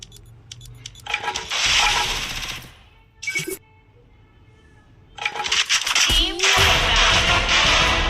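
Rapid automatic gunfire in the Free Fire battle royale game during a ranked match, with loud bursts of rattling shots separated by brief pauses and a quieter gap, under a player's commentary.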